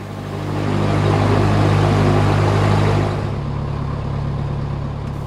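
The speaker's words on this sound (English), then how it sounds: "air-cooled engine which sounds, well, like a Cessna engine" The horizontally opposed, air-cooled piston engine of a Cessna 162 Skycatcher light aircraft drones steadily close by, swelling louder for a few seconds before settling to a constant lower hum.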